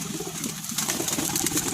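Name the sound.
pigeons cooing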